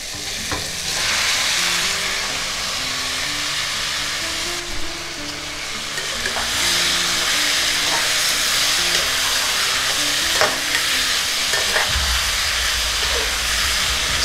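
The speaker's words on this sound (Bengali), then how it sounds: "এখন আমি ম্যারিনেট করা চিকেনটা দিয়ে দিচ্ছি।" Marinated chicken hitting a hot pan with onion and tomato, giving loud continuous sizzling and hissing steam, with repeated spoon scrapes and stirring knocks close up and no talking.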